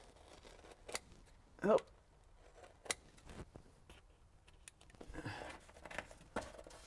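Scissors snip a curved radius into sound deadening material during roof sound-proofing of a dual cab 4x4 truck, giving a few quiet, scattered cutting clicks and rustles, with a brief spoken exclamation.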